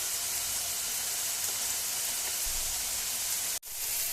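Chicken frying in a pan gives a steady, even sizzle that holds for several seconds at moderate loudness, with a brief dropout near the end and no voices.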